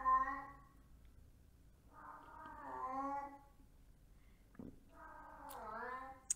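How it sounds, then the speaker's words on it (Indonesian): An indoor cat gives three drawn-out, whiny meows with pauses between them, fairly faint against a quiet background. "itu kucing saya terus bersuara ini."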